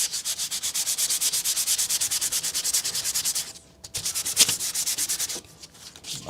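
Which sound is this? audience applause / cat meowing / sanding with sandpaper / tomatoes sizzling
sanding with sandpaper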